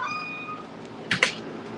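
Domestic cat giving one drawn-out meow close by, followed by a couple of sharp clicks or taps in a quiet room.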